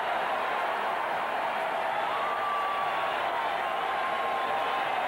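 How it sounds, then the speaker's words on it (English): Raiders fans in the Oakland stadium cheer their defense during a 1980 NFL game against the Chargers, a steady distant crowd roar running under the broadcast with no clear peaks. "the Raiders fans cheer the defense"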